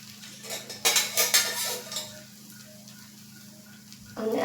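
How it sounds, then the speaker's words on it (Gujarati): A metal spoon scrapes and taps on a hot pan as besan and bajra flour chilla batter is spread in circles, with clinks and a soft sizzle close up over a steady low hum. "તો હવે આપણે બેટર એડ કરી અને આ રીતે ગોળ ગોળ કરી અને ચીલો તૈયાર કરી લેશું."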